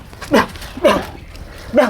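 Three short barks from a dog, spaced about half a second to a second apart, moderately close, with quiet background between them.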